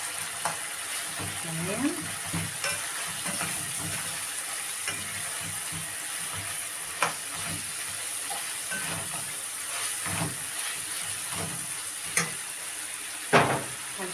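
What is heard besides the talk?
garlic sizzling as it fries in a pan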